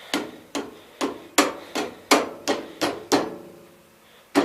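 A 24-ounce framing hammer drives a lift handle onto a 1974 Gravely 812 mower, with about nine sharp metallic blows in a steady rhythm, then a pause and one last strike, loud and close.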